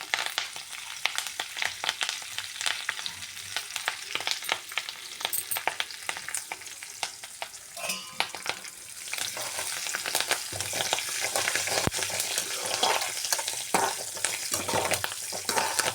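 Cumin, mustard seeds and curry leaves crackling in a little hot oil for a cauliflower-tomato pickle, a dense continuous sizzle with sharp popping seeds and occasional stirring scrapes, close and unaccompanied by talk.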